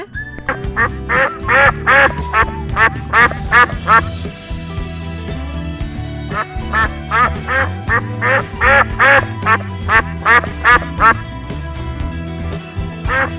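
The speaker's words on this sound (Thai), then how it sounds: "เราลองไปฟังเสียงเป็ดกันดูนะคะ" Ducks quack loudly and close by in repeated rapid bursts, several calls overlapping with short pauses between runs.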